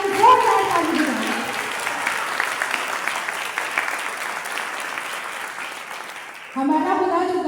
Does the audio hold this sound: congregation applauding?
yes